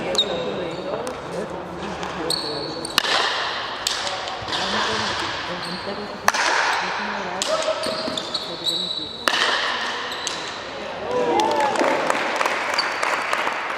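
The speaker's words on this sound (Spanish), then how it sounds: "Aplausos." An audience at a Larraina–Pau exchange event claps in repeated bursts of applause, separated by short pauses and sharp impacts, with voices talking over the crowd throughout.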